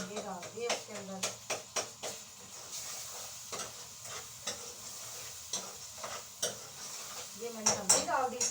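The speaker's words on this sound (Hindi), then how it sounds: "ये मैंने हल्दी डाल दी इसके अंदर" Turmeric stirred into a pan of frying potato bhujia: a spoon scrapes and clinks against the metal pan in irregular strokes over a soft sizzle, with someone talking throughout.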